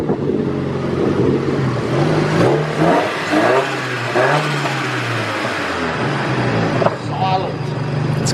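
Nissan car with an SR20 engine revving and accelerating, a loud continuous engine note rising and falling in pitch, heard from inside the car with people talking over it.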